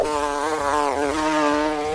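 Steady insect-like wing buzzing for a flying LEGO minifigure in wasp form, a close, continuous droning whine that wavers slightly in pitch, with no talking.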